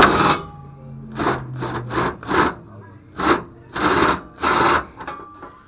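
A long bolt being worked out of a fuel pump mount with a hand ratchet, a series of rapid raspy clicking bursts in uneven groups, close and fairly loud.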